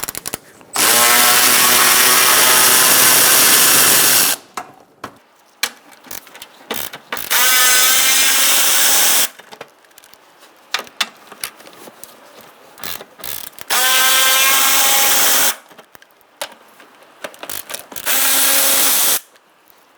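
A powered ratchet with a 10mm socket backs out front bumper cover bolts on a 2012-2017 Hyundai Accent, whirring loudly in four sustained bursts of about three seconds each, separated by clicks and handling noises.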